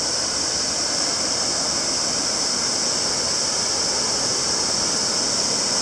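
Tad Huang waterfall in Loei, Thailand, on the border between two countries, makes a steady, loud, unbroken roar of rushing water that lasts throughout.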